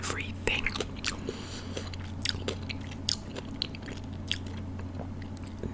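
Crunchy pickles bitten and chewed close to the microphone, with sharp, separate crunches over a steady low hum and whispering between the bites.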